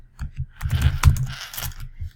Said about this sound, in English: I'm also going to go ahead and type in Shippensburg